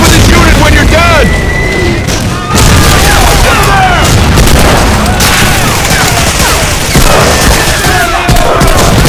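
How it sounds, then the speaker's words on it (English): Loud, continuous battlefield din in Medal of Honor: Allied Assault, set in North Africa, with heavy artillery booms, whistling shells and scattered gunfire layered under shouting voices. "Artillery!"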